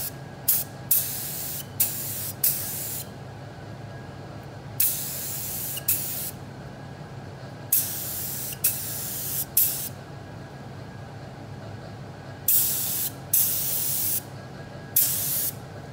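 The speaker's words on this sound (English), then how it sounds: "I'm just going to spray on now to make sure I've got the correct pressure and spraying pattern" A spray gun spraying maroon paint on a Riley Pathfinder car hisses in repeated short bursts, each a second or two long with brief pauses between, loud and close over a steady background hum.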